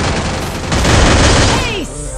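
Gunfire in the Free Fire battle royale game, a dense loud burst of rapid shots and booms that blur together, ending with a falling whistle-like tone, while a voice talks over it.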